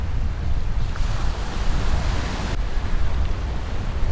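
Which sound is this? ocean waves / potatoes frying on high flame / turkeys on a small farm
ocean waves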